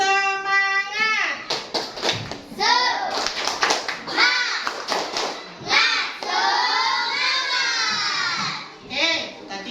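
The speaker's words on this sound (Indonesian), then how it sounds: "Coba kita beri tepuk semangat." A school class does a rhythmic spirit clap in a classroom lesson, with bursts of hand claps mixed with children's voices and chanting, and an adult voice leading over them.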